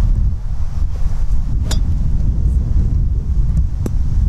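Steady wind buffeting the microphone on an open golf course at Tiverton, a continuous low roar with a couple of faint brief clicks, no voices.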